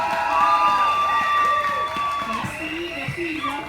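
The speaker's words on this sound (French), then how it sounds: "On applaudit Nathalie. Ouais, faites du bruit pour Nathalie." Audience at a solidarity gathering for victims of racism in Belgium claps and cheers for a woman named Nathalie, whoops and applause under a bright ringing tone, a voice speaking over the noise toward the end.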